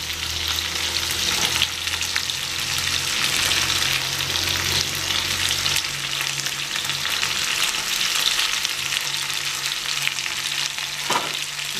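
Red amaranth stems tipped into a pan of boiled potatoes and other vegetables and stirred, a loud continuous sizzle with a few clattering spoon knocks, no voices.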